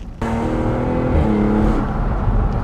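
A 2017 Jaguar F-Type roadster engine starts up loud and close, then holds a steady, throaty idle with a brief rise in pitch midway.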